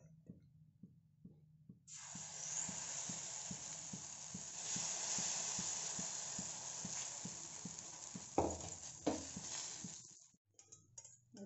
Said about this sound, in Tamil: இப்போ அடுத்த அடையை இது மாதிரி ஊற்றிக்கலாம்